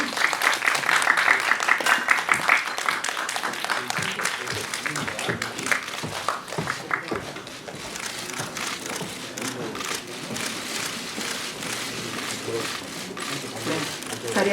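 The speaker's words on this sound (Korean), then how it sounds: "큰 박수로 맞아주시기 바랍니다." Audience applause greets a film director and lead actors arriving at a press conference after a screening of the Korean film 'Because I Hate Korea', sustained and dense throughout with room noise.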